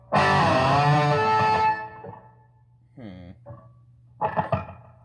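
A sharp, distorted pinch-harmonic squeal from a Sterling by Ernie Ball JP60 electric guitar rings out loudly then fades, followed by a few shorter plucked notes.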